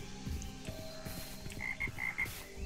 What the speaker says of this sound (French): J'entends des grenouilles, mais je les vois pas.